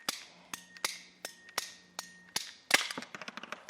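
A ratchet PVC pipe cutter works through plastic pipe: a series of crisp, evenly spaced clicks as the trigger is squeezed, then a sharper crack and a quick flurry of smaller snaps as the blade finishes the cut, close and alone.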